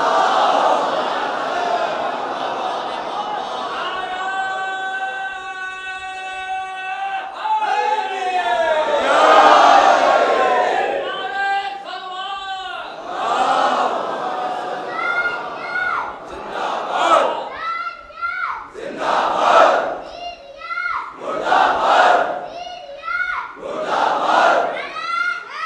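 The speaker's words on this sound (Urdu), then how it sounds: "ایک صلوات پڑھے محمد و آل محمد" A large crowd at a Shia majlis recites salawat in unison, a loud chorus of many voices chanting together in long, rising and falling phrases that fill the space.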